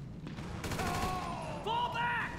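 Gunfire in GTA Online pops in a quick cluster of sharp reports, followed by ringing tonal effects that rise and bend over the final second.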